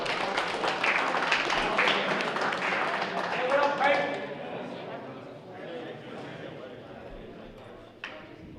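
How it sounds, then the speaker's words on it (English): A high school football banquet crowd applauds the juniors, a dense wash of clapping that is loud for about four seconds and then thins and fades, with a voice speaking over it. "Give an applause"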